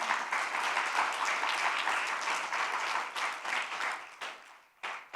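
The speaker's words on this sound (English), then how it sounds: "Can we clap for them?" A crowd applauding, with dense sustained clapping that holds steady and then tapers off into scattered claps near the end.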